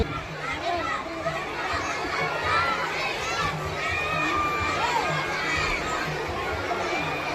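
Children in the audience at a St. John's school Christmas function in Bantumilli shout and chatter, a dense, loud crowd of young voices with excited high calls rising over the constant hubbub.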